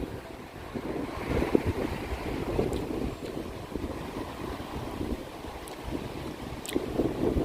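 Wind gusts across the microphone during an outdoor walk among tall trees, making a continuous rough, blustery roar with brief crackles and thumps, and no talking.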